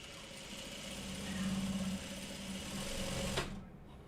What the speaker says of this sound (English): So you can kind of see how I'm sewing.